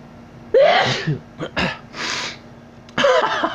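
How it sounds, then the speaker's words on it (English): Several loud, close sneezes burst out in quick succession, with brief quiet gaps between them and a final sneeze after a pause. "Uh-oh, another sneeze."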